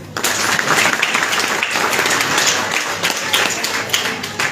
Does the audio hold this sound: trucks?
no